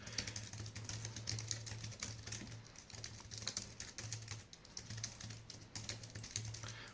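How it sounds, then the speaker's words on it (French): Rapid typing on the detachable keyboard of a Tabwee T60 Pro 13.4-inch tablet, a steady run of close, light plastic key clicks with short pauses, heard alone over a low constant hum. "le clavier va aussi fonctionner en allumant. Voilà, donc moi j'ai aucun souci d'appairage, ça fonctionne direct, et je peux taper."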